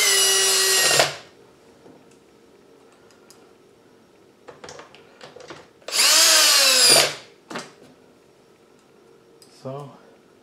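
A power drill drives screws into an Atari Legacy arcade cabinet during a trackball install, two loud close whirring bursts of about a second each, separated by quiet rattles and small clicks of handling.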